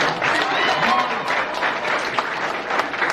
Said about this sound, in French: monsieur André Chalmaï doit recevoir les acclamations comme il se doit